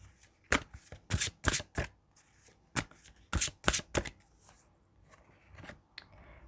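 Oracle cards are shuffled in two quick bursts, each a run of four or five sharp riffling slaps, close and crisp, with softer card rustling in the gaps and no talking.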